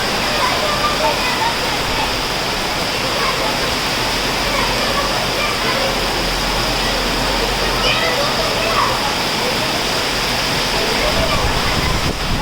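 A storm's heavy rain roars steadily and loudly, a continuous dense wash of water with faint voices occasionally audible beneath it.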